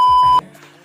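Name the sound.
censor beep sound effect in vlog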